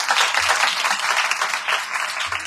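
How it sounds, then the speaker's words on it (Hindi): Worshippers at a Sunday Advent service in a fellowship church clap together in a brief, lively burst of applause, a dense crackle of many hands held at a fairly even level. "आइए यीशु मसीह के लिए तालियां बजाएं"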